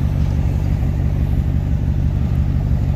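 Steady, loud hum of a 2005 Mercedes E55 AMG's supercharged engine running nearby, a constant low droning rumble with no revving changes and no talking.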